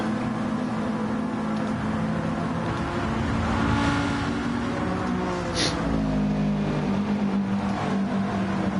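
A pack of race cars battles wheel to wheel at Spa, their engines droning and shifting pitch in a dense, continuous roar that swells as they pass close by.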